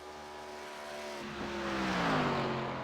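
An ARCA Series race car runs a qualifying lap at Daytona, its engine a steady, loud drone that swells as it approaches and passes, with no talk over it.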